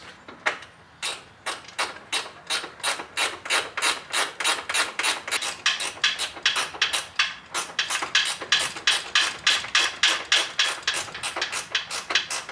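A ratchet clicks in a quick, steady rhythm while a bolt is snugged down on an S14 chassis during electrical repairs, a long close run of sharp repeated ticks with brief pauses, with no talk over it.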